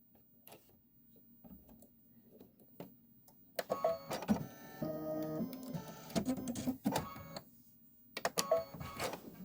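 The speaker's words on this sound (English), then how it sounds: "let's stitch out the bricks" Embroidery machine stitching out bricks in lead gray thread at home, heard as faint mechanical whirring at first, then louder bursts of rapid stitching with pauses and clicks in between.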